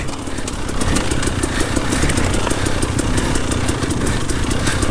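A four-stroke motorcycle engine on a hard enduro trail, running steadily and loud up close with a dense, rapid throbbing and clattering texture throughout.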